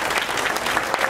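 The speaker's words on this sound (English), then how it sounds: "give them a North Miami round of applause" An audience gives a round of applause for the North Miami police chief and commanders at a State of the City address, a steady wash of many hands clapping throughout.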